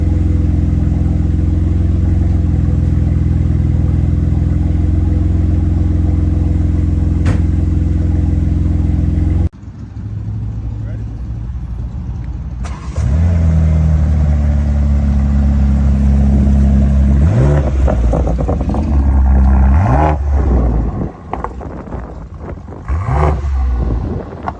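A BMW M3 Competition tuned to 800 hp, loud and close, first holding a steady, heavy drone, then after a drop breaking into repeated revs that rise and fall in sharp sweeps as the car drives, with no talk.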